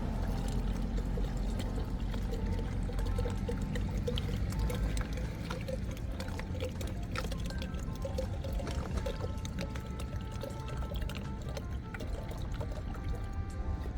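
Water poured steadily into a vehicle, a continuous splashing and gurgling flow that stays loud and unbroken for the whole stretch with no talking.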